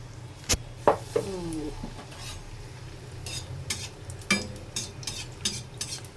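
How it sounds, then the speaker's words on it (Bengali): Batter-dipped slices of pointed gourd going into hot oil, with a soft crackle of frying under sharp clinks of utensils and scraping in the pan, all fairly quiet, with no talk. "ডুবিয়ে নিয়ে এমনি করে তেলে ভাজতে শুরু করি।"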